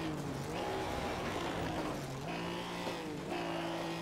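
A 1938 race car at Donington in Assetto Corsa, with a loud, steady engine drone whose pitch drops and climbs as it brakes and shifts, heard alone.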